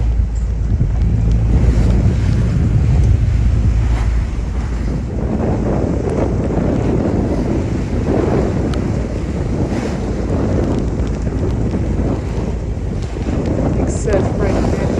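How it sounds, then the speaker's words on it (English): Heavy surf breaking at a coastal bar, a broad, continuous roar of waves mixed with strong wind buffeting the microphone, heard from aboard a boat. "Big surf break down here."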